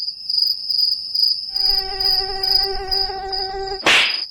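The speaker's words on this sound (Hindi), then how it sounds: "ससुर मच्छर काट गया।" A mosquito whines close by with a thin, steady high buzz that strengthens partway through and ends abruptly with a sharp slap-like burst.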